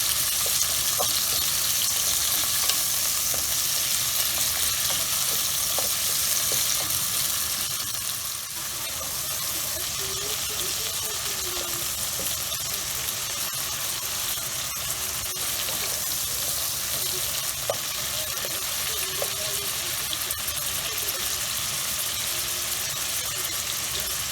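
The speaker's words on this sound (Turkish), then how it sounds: "etler bırakacağı suyu kesip kavrulacak" Chunks of meat sautéing in a pan as their released juices cook off for a fresh pea and meat stew, a steady loud sizzle and crackle with occasional stirring, no talk.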